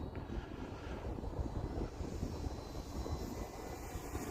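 Engine of an Arrows Husky 1800mm PNP RC airplane in flight as the power is backed off for a full-flap landing approach, a steady broadband hum held at a constant level throughout, moderately near with no talk.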